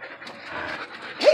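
A young Jack Russell puppy, about five or six months old, pants in quick soft breaths up close, ending with a brief high whimper.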